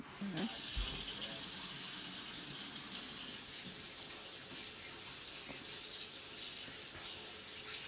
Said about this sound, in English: I'm just gonna rinse or wash this one.